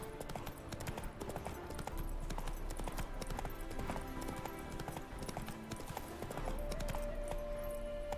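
Hooves of a horse galloping in the video game The Witcher 3 clatter in a fast, continuous clip-clop rhythm, close and steady, with game sounds in the background.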